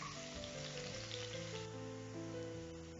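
Crushed garlic sautéing in hot oil in a wok gives a soft, continuous sizzle and crackle, with faint sustained musical tones running underneath and no talk.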